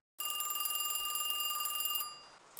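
A telephone in the game Kiosk rings with a steady, bright electronic trill for about two seconds, then briefly cuts and resumes, clear and alone with no talking.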